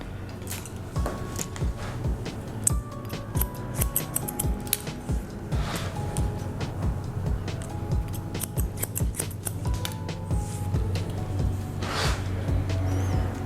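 Scissors trim short hair at the back of the head during a women's pixie cut, producing quick, crisp snips in an irregular rhythm. The cuts sound close and clear, with no talking over them.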